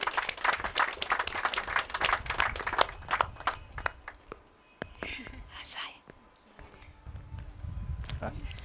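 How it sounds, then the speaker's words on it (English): An audience at an architecture student awards ceremony claps for a few seconds, with sharp, scattered hand claps that thin out while a voice speaks over them. "Let's give her a round of applause."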